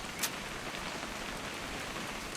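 Rain falling in What Remains of Edith Finch, a constant wash of drops pattering on surfaces with one brief sharper tick near the start, no voices over it.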